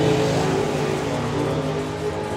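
Drag racing at the Festival of Power 2024, a Datsun Z-car and a Barracuda, with engine roar filling the air in a continuous loud rumble and no voices.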